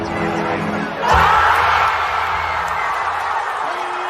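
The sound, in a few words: crowd cheering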